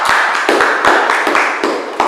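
A classroom group session applauding group B, several quick bursts of hand clapping, close and fairly loud, over about two seconds.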